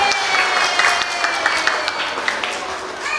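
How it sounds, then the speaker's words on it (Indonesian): Young children at a kindergarten Ramadan gathering applaud together, a steady close patter of many small hands clapping with a few sharper claps standing out. "Tepuk tangan dulu buat kita semua."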